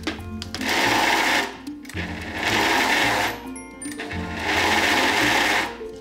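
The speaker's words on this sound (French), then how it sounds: "on met ça dans notre petit robot" A small food processor whirs in three long bursts with short pauses between them, blending olives, tomato and parmesan into fresh breadcrumbs.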